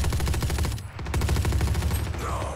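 Rapid automatic gunfire in the shooter Valorant, with a fast, even stream of close, loud shots, a brief break, then more sustained firing.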